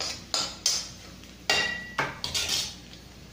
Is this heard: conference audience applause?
no